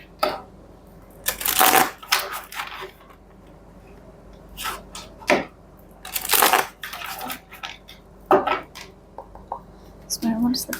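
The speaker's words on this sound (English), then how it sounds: "let's take a look at your tarot cards now" Tarot cards being shuffled and handled, giving bursts of riffling, papery rustle and snapping card contact at irregular intervals, fairly close, with quiet pauses between bursts.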